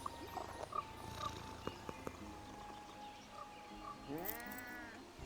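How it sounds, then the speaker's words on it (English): A cat companion in the Magic: The Gathering Arena video game purrs softly with low rumbling amid faint game chimes and clicks, then gives a short rising meow-like growl near the end. "You can make your cat purr."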